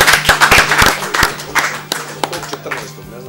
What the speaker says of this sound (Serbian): Aplauz za zaljubljenu ženu